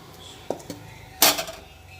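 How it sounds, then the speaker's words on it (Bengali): Washed rice stirred into boiling water in a pot while making fried rice: a couple of quick metal clinks, then a short, louder splashy scrape and swirl that fades away, with no talking. "চালটা ভালোবাসে জলের মধ্যে মিলিয়ে দিচ্ছি"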